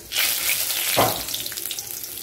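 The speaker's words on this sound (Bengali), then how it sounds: "ওই গরম তেলে আমি 2 তেজপাতা দিলাম, আর একটু গোটা জিরে ফোড়ন হিসেবে দিয়ে দিলাম।" Bay leaves and whole cumin seeds hit hot oil as a tempering for a Bengali prawn and banana-flower curry, giving a loud steady sizzle with a sharp burst of spitting about a second in, then a continuous crackle.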